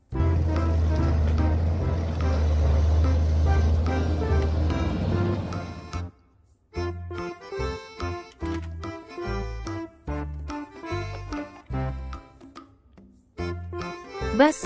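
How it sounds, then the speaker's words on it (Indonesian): Toy forklift whose steady low motor hum and rumble runs for about six seconds, then gives way to a jerky sequence of clicks, beeps and short mechanical bursts, close and moderately loud. "Forklift."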